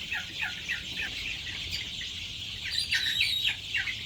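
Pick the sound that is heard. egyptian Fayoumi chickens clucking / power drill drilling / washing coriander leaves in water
egyptian Fayoumi chickens clucking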